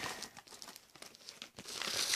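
A plastic bag of star- and ball-shaped breakfast cereal being pulled out of its box gives close, continuous crinkling and rustling that swells louder toward the end.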